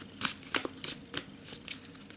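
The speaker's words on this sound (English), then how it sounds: "Let's have a go at shuffling." A Linestrider tarot deck with matte, moderately thick cardstock is shuffled by hand nearby, producing soft, quiet riffling bursts in an irregular rhythm.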